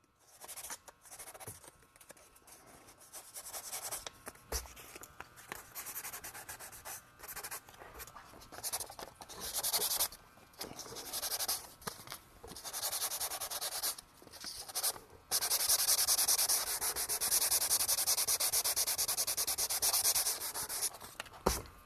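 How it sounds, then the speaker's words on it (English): Glued leather sanded lightly by hand with 600 grit sandpaper, close continuous rubbing strokes in uneven bursts that grow steadier and louder toward the end, no talking. "Next I'm going to use a little bit of 600 and I'm going to lightly sand this down."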